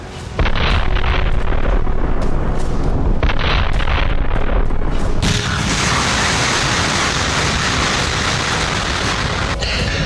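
Russian missile strikes explode over Ukrainian cities, a loud continuous roar of blasts and rumbling destruction with no voices, filling the whole stretch before settling into a dense, sustained crackling din.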